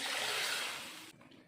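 Water pours steadily into a cooking pot of soaked basmati rice, green peas and coconut milk for pattani pulao, a close, rushing splash lasting about a second before cutting off.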